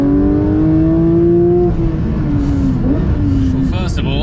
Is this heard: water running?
no